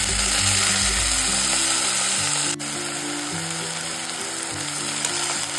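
Chickpea leaves and onion sautéing in oil, giving a dense steady sizzle throughout, with a brief clatter near the middle and no voices.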